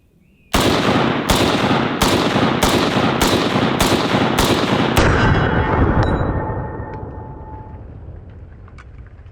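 An M1 Garand rifle fires eight loud, evenly spaced shots in quick succession, followed by the bright metallic ping of the empty clip ejecting as the reverberation trails off outdoors.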